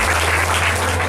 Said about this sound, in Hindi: परमेश्वर को ताली बजा के धन्यवाद।